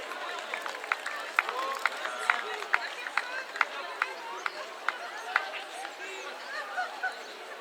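A crowd applauds the winner of the women's Master 3 category at the Pierrefonds–Compiègne two-châteaux road race in 2021, with scattered sharp claps repeating over a steady outdoor murmur of voices.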